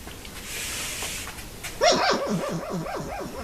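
Puppies yip and whimper in a rapid, high-pitched series, starting after a stretch of soft background noise.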